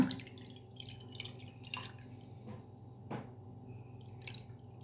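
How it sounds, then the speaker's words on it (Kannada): Salt water cooled for a mixed vegetable pickle is strained through a cloth, giving faint, quiet dripping and trickling with a few soft splashes and no talking. "ಬಟ್ಟೆಯಲ್ಲಿ ಗಾಳಿಸಿದರೆ ಸಾಕ್ತದೆ."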